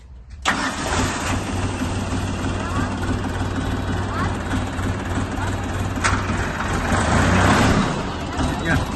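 A DTZ 5354HPX tractor engine starts abruptly and runs with a loud, rough rumble, revving slightly near the end as it pulls away.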